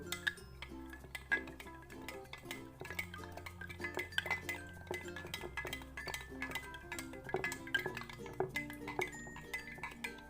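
Metal spoon stirring salt into water inside a glass jar, producing rapid, continuous clinking and scraping against the glass at close range, with a steady low hum underneath.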